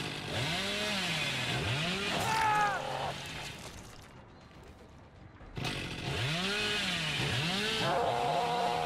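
In the video game Dead by Daylight-style horror setting, Hillbilly's chainsaw revs in loud rising and falling bursts, dips away for a moment, then roars back with repeated revving.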